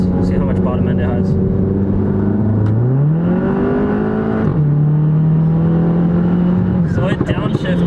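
A turbocharged 350 hp Volkswagen GTI accelerates hard from low revs, its engine drone climbing steadily in pitch, then dropping abruptly at a gear change before pulling again, loud and close throughout.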